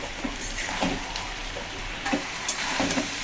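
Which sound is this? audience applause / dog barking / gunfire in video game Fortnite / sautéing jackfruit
sautéing jackfruit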